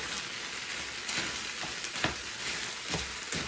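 Beef pieces fry with onion and garlic for beef stroganoff, a soft, steady sizzle with occasional crackles and a few stirring taps, fairly quiet and close, with no voices.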